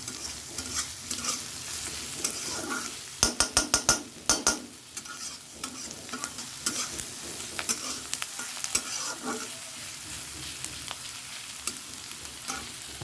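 Eggs sizzling in a pan for scrambled egg bhujiya alongside fried potatoes, a steady frying hiss broken by a quick cluster of sharp spatula scrapes and stirring knocks.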